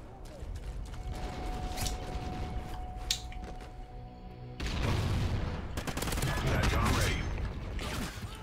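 Gun reload in the Call of Duty Ghosts video game: quiet mechanical clicks and clacks set in a steady wash of in-game noise, with a louder, busier stretch of action in the second half.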